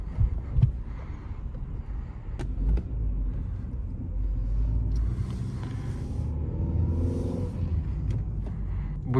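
A Fiat Egea Cross with the 1.4 Fire petrol engine drives along, with a steady low engine and road rumble and some wind noise throughout, heard from inside the cabin and without talk.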